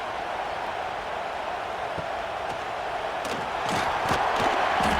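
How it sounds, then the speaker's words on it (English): Stadium crowd noise at a college football game in EA Sports College Football 26, a steady roar that swells louder toward the end, with faint cheering bursts over the broad crowd wash. "This crowd bringing the energy and noise"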